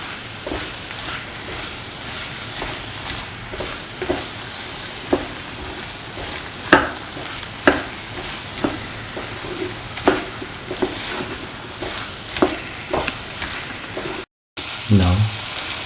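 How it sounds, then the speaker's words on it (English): A plantain and cashew stir fry sizzles in a frying pan while being mixed, a steady fry hiss broken by regular scraping and clacking stirring strokes, close and fairly loud. "So I will mix all the ingredients thoroughly."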